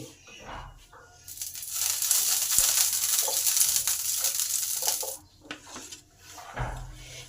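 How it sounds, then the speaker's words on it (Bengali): Steady bristly swishing and light scraping as oil is brushed across a hot pan, a soft sizzle running underneath for several seconds, with brief metallic clinks at the start and end. "সামান্য পরিমাণ তেল দিলাম প্যানটাকে ভালোভাবে ব্রাশ করে নিতে হবে"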